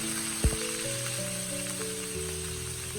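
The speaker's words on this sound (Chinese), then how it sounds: "像这种小蘑菇的含水量特别重，我们要多炒一会儿，这样方便入味。" Small mushrooms sizzle and crackle while being stir-fried in a hot wok, with a brief scrape or clatter near the start. Under the frying runs a steady bright hiss with faint tonal hums.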